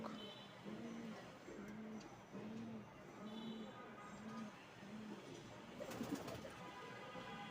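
Teddy pigeons, including a large male kept in a small cage, give repeated low rhythmic coos at a steady pace, close and fairly clear over a background hiss.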